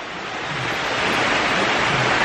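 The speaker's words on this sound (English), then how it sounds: "Just getting to the waterfall." Steady broadband rush of a waterfall in a Puerto Rican jungle, a continuous hiss of falling water heard close and fairly loud with no talking over it.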